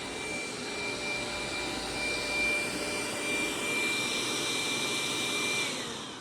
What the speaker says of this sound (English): the Z10 is a good hard floor cleaner, but it's not the best